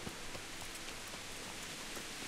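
Steady rain in the medieval game Kingdom Come: Deliverance, a dense continuous hiss of falling drops on surfaces with scattered sharper drip taps, heard alone without voices.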